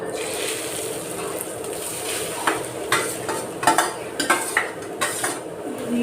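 Grated coconut frying in hot ghee in a pan while a utensil stirs it, giving a steady sizzle with scraping clinks that grow more frequent toward the end, close and fairly loud, no talk.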